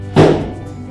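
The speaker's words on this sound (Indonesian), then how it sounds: "ada main petasan bro di luar." A firecracker goes off outdoors: one fairly loud, muffled bang with a sharp onset and a short rumbling decay, heard alone with no talk.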